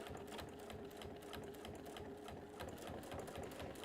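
A domestic sewing machine stitching fabric, a fast, even mechanical rattle of needle strokes running continuously and close up, with no talk.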